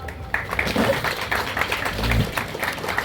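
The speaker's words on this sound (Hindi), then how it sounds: "जोरदार ताली बजनी चाहिए सीआई सर के लिए" A crowd claps together to welcome a guest at the opening of a local premier league cricket season event in Dharampur, Burnpur, the applause steady and fairly close throughout, with some voices and talk mixed in.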